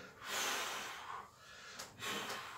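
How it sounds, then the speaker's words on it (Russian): Deep, forceful exhales from a person receiving a manual back massage with elbow techniques, two long breathy bursts with a shorter one between, close and fairly loud, no talk over them. "Выдох. Еще раз выдох. Выдох. Давай вместе дышим."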